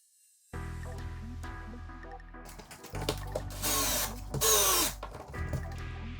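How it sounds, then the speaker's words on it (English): A power drill drives screws while a Tesla Wall Connector Gen 3 EV charger is being installed, whirring in several close, loud bursts that rise in pitch near the end. "Now I'm just going to get my screws in there."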